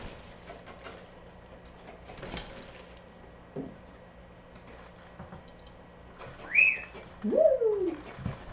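A pet bird in a home cage is mostly quiet over a faint room hum, then gives a couple of short, clear chirping calls near the end, close to the microphone.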